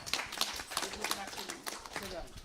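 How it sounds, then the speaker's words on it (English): A small gathering at a Sunday satsang claps briefly, quiet and fairly distant, with scattered hand claps under a voice. "Give her a little round of applause"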